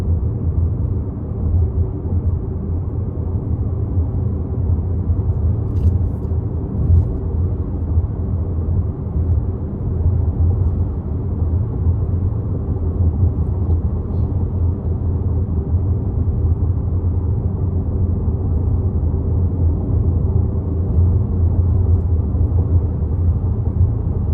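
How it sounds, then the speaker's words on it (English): Steady low road rumble inside a 2026 Toyota Corolla Cross L on a rough road, a continuous droning cabin noise with no voices and only faint brief ticks over it. "But still, sound acoustics in here and road noise are not bad."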